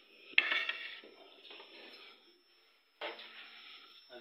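Onion, garlic and ginger tipped into a cooking pot in a village kitchen, giving a few clattering metallic clinks and short scraping sizzles in separate bursts, close and fairly quiet, with no talking.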